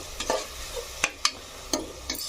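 Ginger-garlic paste frying in a pan of mutton curry, a low sizzle broken by several sharp scraping clicks of a spoon stirring, close and fairly quiet.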